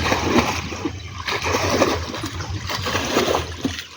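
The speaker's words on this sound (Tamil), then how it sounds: "தண்ணி இறச்சி விட்டுட்டு இருக்காங்க பாருங்கள்" Water is bailed out of a village irrigation channel, splashing and sloshing continuously, close by, with irregular scooping and pouring sounds over a steady wet rush.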